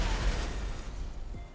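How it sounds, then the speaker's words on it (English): A big tanker truck blows up in GTA 5, a deep booming blast with rumbling low-end decay over a second or so, loud and close. "Okay, that was a big explosion."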